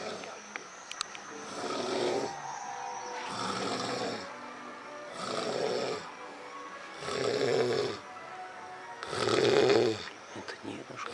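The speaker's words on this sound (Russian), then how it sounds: "Интересно, кто же так храпит так сильно?" Grandfather snoring loudly in a slow, regular rhythm, five deep rasping inhalations spaced about two seconds apart, close and prominent against a quiet room.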